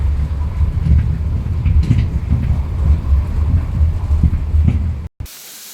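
A small artificial waterfall splashes steadily inside an underground wine cellar at Milestii Mici in Moldova, a dense continuous rushing roar that echoes and then cuts off abruptly near the end.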